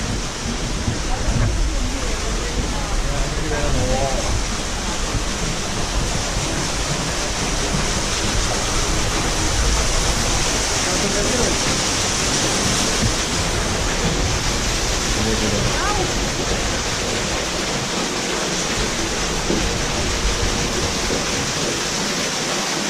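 A waterfall near Mawenzi Peak on Kilimanjaro roars steadily nearby as a continuous rushing wash of water, with faint voices now and then underneath.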